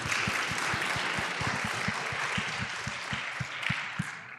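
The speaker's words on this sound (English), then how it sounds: "Round of applause for you, please." At a programming contest closing ceremony, the audience applauds the teams with a steady wash of clapping from a large hall, underpinned by regular low thumps in a quick rhythm.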